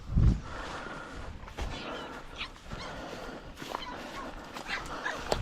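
Hunting dogs whimper and yip during a rabbit hunt outdoors, a near, continuous restless chorus with a loud close yelp at the start and scattered sharper cries throughout.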